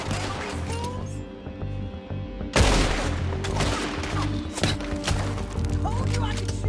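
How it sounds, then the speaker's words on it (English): Rapid gunfire rings out in Red Dead Redemption 2, a loud barrage of overlapping shots and impacts over game ambience and music, with voices audible in the mix. "Told you I could shoot a gun, didn't I?"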